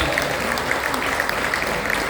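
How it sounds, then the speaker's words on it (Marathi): An audience at a Maharashtra Andhashraddha Nirmoolan Samiti state-level award ceremony claps loudly and continuously, a dense crackle of many hands with sharper individual claps standing out. "जोरदार टाळ्यांचा कडकडा झाला पाहिजे"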